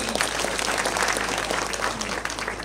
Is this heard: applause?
yes